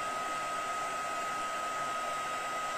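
A heat gun (embossing gun) blows hot air in a steady, unbroken whooshing hiss with a faint whine, moderately quiet and alone throughout, while drying a craft project.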